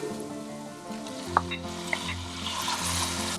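Tomatoes drop into a hot frying pan with minced garlic, giving a steady close sizzle with stirring scrapes and a couple of sharp clinks of a utensil against the pan.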